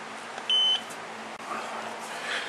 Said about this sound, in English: got a nice audible beep